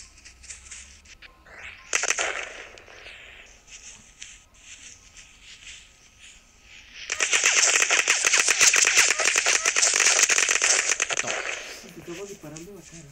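Gunfire in the mobile video game Los Angeles Crimes, with scattered shots and then a long, dense burst of rapid automatic fire, loud and close.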